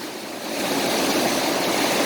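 Steady rushing water from a reservoir roars continuously under a bridge over Khlong Bang Phai canal, a broad loud flow that swells in the first half second and then holds constant.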